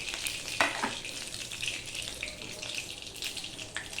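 Panch phoron whole spices frying in hot oil in a home kitchen pan, a continuous crackling sizzle with a few sharper pops, close and steady.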